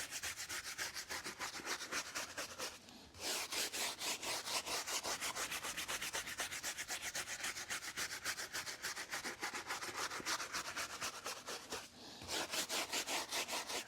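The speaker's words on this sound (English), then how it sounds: "So we're gonna take our tire brush here." A tire brush scrubs a car tire in rapid, continuous back-and-forth strokes, close and loud, with two brief pauses between bursts and no talking.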